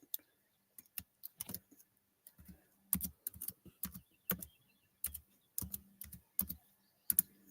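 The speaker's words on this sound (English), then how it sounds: "Okay, I got to finish typing my email for anybody that wants it." Fast, uneven keystrokes from typing an email on a computer keyboard, arriving in short bursts and clusters with brief pauses, close and fairly loud, with no speech.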